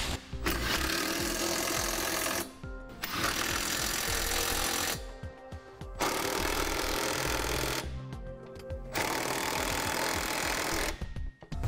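Power tool bursts tightening the fasteners and bolts on a Draw-Tite Max-Frame trailer hitch receiver, four loud, sustained runs of a few seconds each separated by brief pauses, close up with no talking.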